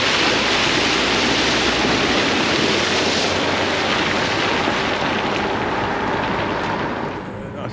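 Broad, steady roar of a flooded river that has burst its banks in Glen Clova, rushing water filling the scene continuously, loud and close, surging past.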